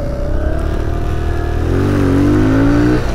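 Kawasaki Z125 Pro motorcycle on street tires accelerating hard and shifting up, its loud mid-pitched engine drone climbing steadily, dropping at the gear change and rising again close to the rider.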